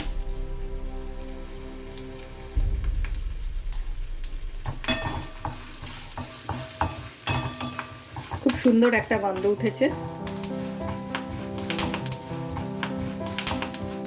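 A tempering of Kashmiri chilli and asafoetida crackles and sizzles in hot oil for curd rice, a close, busy fry with a voice talking over it and music in the background.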